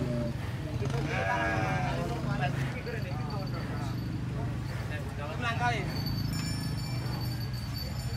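Agitated cattle at a cattle contest in Banyuwangi give loud, close lowing calls over steady crowd and outdoor noise. Several strained calls come in the first few seconds, and people talk throughout.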